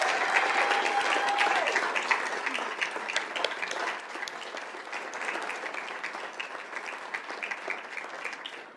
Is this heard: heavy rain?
no